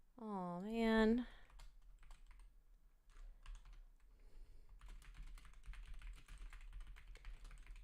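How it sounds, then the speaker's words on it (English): Fast, furious typing on a computer keyboard: dense clusters of light close clicks and taps, after a short sung or whined vocal sound at the start. "I'm typing furiously"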